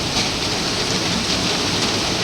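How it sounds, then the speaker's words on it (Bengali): Steady rain pours down outside among trees, a dense, even hiss with no break, close and fairly loud with no voices. "ভালো লাগে এই বসে বৃষ্টি দেখতে"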